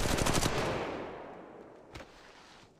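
R-301 rifle fired in the mobile shooter Apex Legends Mobile: a rapid automatic burst of close gunshots that rings out and decays, followed by a single fainter shot.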